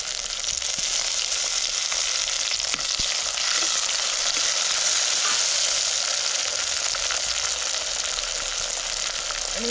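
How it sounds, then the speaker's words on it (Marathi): Onion and tomato sauté in a pan for a Gudi Padwa festive thali, giving a steady, close, loud sizzle of frying that runs unbroken throughout, with a few faint stirring scrapes and no talk. "कांदा आपल्याला चांगला परतून घ्यायचा कांदा आपला चांगला परतून झाला टमाटर घालू"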